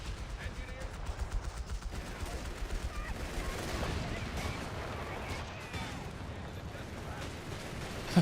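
Gunfire hitting an emplacement in the video game Slumber Realm comes as a steady, dense stream of rapid shots and rumbling impacts over about eight seconds, with indistinct voices mixed in.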